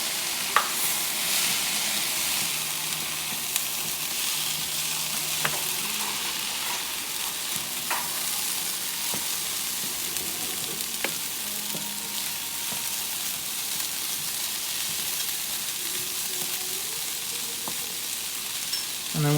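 Boiled lentils fry in a pan with their cooking broth for vegetarian taco filling, giving a steady close sizzle with scattered clicks and scrapes of stirring and mashing throughout.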